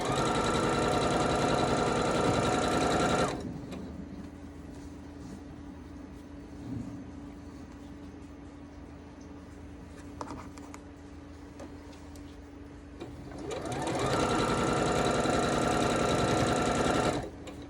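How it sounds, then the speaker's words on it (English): Sewing machine stitching red quilt blocks: a steady, loud, close mechanical whir runs for several seconds, stops for a long quiet stretch with faint handling noise, then starts again and runs to the end. "And then the rest are going to be sewn with a red dot block."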